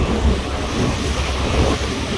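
Water churns and surges around a tour boat near Niagara Falls, a dense, roaring wash of waves with strong wind buffeting the microphone, loud and constant, with no talking.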